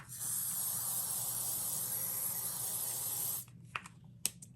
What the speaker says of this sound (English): I spray it with a little bit of hairspray.